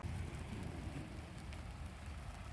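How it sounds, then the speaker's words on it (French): Light passing rain falls during a road trip through Portugal, a soft steady wash of drizzle mixed with low rumbling road or vehicle noise, faint and unbroken, with no talking. "Bon, petite pluie passagère."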